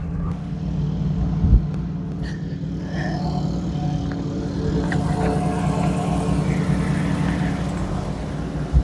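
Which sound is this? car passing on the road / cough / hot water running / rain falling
car passing on the road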